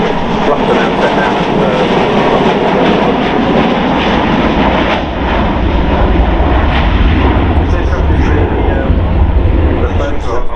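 An airplane flies at the Farnborough Airshow with a loud, continuous engine roar that stays steady throughout, with no break or fade.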